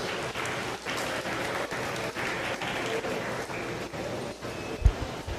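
Steady applause from a crowd at a 2021 meat goat show fills the space, dense and continuous with a broad wash of claps that stays even throughout, with one brief louder thump near the end.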